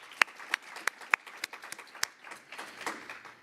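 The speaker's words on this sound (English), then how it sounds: "resounding applause for our sponsors today" Sparse applause for sponsors at a youth internet governance forum in Canada, a handful of distinct sharp claps at first, then thinning into softer scattered clapping, fairly faint and without voices.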